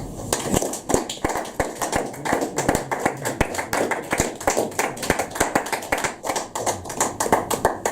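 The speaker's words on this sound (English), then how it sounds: "More applause, please, for Natalie Katsou." A small audience at a poetry night in the King & Queen pub claps for poet Natalie Katsou, individual hand claps distinct and close, in a brisk, uneven patter lasting about eight seconds.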